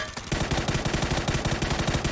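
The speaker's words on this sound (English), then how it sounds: "He's getting shot at." Rapid automatic gunfire in PUBG, a dense, fast, evenly spaced stream of shots fairly close and loud, running continuously after a short quiet start.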